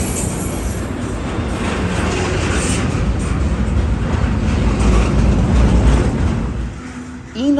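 A long freight train rolls steadily past at a rural crossing near Greenville, South Carolina: a loud, continuous rumble and rattle of wagons that holds nearly unbroken and eases slightly at the end.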